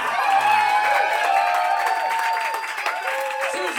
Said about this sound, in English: Keep that clap going, she's here, Suzy Frost, baby!